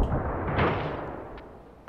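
A jeep blowing up on a snowy mountain map in the war game Ravenfield, heard as a single muffled blast that swells in the middle and fades into a rumbling tail, with no voices.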